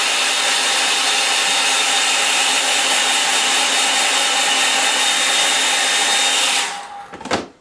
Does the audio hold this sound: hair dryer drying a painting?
yes